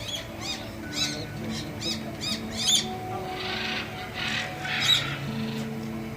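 Parrots in a flowered boulevard park in Saudi Arabia let out a rapid series of harsh squawks, one cluster after another, over a steady low outdoor hum.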